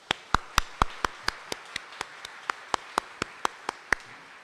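Hands clap in a slow, steady rhythm at a book launch, about a dozen distinct, evenly spaced claps heard close up. There is no chatter, and the clapping sounds more like a single clapper than a full audience.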